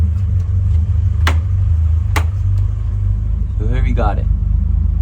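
Engine of a 1989 Toyota Supra MK3 with the 7MGTE idling roughly, a low steady rumble close by with a couple of sharp clicks, while someone speaks briefly over it.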